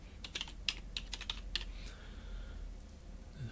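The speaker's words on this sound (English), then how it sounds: "So I should actually just be able to type dungeon." Computer keyboard keys tapped in a short quick burst of sharp clicks, then a quieter stretch with faint background hum, nearby and alone without speech.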